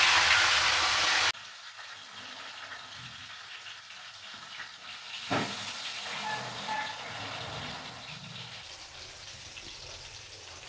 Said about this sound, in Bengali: তেলটা গরম হয়ে গেছে। মাছের মাথা ভেজে নেব প্রথমে।